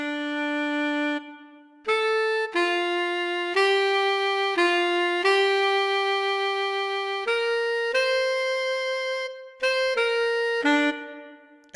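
Dry software saxophone with no effects, played as a clean melodic line of separate held notes with short gaps between phrases, alone and close.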